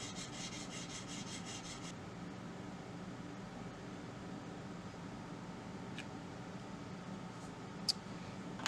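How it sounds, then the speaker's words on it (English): Soft, steady rubbing and scraping of sandpaper worked back and forth by hand on a wooden guitar body, with a couple of faint clicks near the end. "Just sand a little bit more, let that void get packed in with a little bit of sanding dust."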